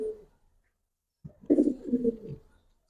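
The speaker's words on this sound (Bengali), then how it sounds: "মাদি কবুতর মাদি কবুতর" Giribaz pigeons coo softly at close range, a low throaty burst after a near-silent pause, with no talking during the call.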